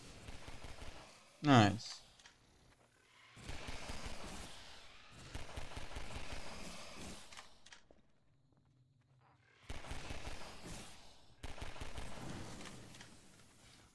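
Gunfire from a weapon in the game Half-Life 2: Episode Two comes in several separate bursts of rapid shots, with quieter gaps between them and players talking over the action.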